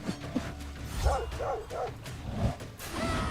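A pack of dogs in the video game Stoneshard barks and yips in quick repeated bursts over a busy game soundscape, mid-distance and moderately loud.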